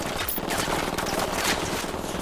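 Dense, continuous automatic gunfire from a firefight in Tom Clancy's Ghost Recon, a busy wall of rapid shots filling the whole moment with no pause.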